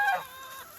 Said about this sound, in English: Here we are at the chickens, all out on pasture, finally.